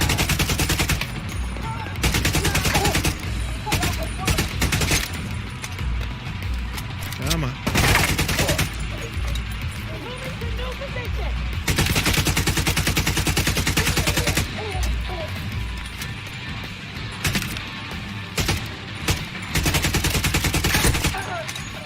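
AK rifle fire in The Division 2 comes as repeated loud bursts of automatic shots in close, rapid succession, separated by brief pauses, with a voice talking at times over the shooting.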